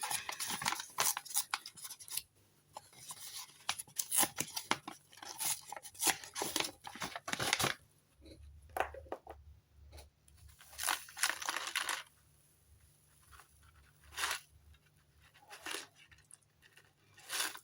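A paper seed envelope is opened carefully by hand, giving close crinkling, tearing and rustling bursts in an irregular rhythm, alone with no speech; a low steady hum enters partway through.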